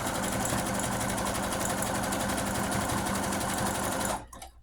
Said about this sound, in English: when the zigzag stitch is being created, I want it to be created in the center of the ribbon of blue